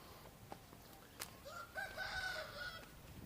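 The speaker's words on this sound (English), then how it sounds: "Hello, roosters." Rooster crowing on a rural Thai morning near Lam Chae, Khon Buri, with one distinct crow and a few faint clucks and calls in the background, moderately near and fairly quiet.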